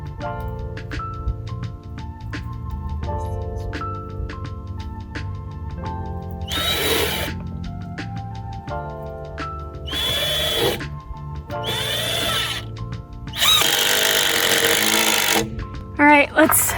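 A circular saw cutting wood for a corner post, with four loud bursts of harsh whining cutting separated by pauses, over a background of steady tonal sound.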